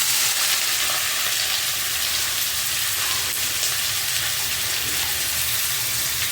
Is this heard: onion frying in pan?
yes